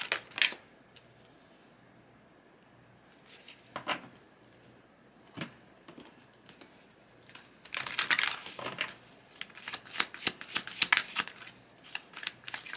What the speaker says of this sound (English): Let's go ahead and continue to pull cards for more information.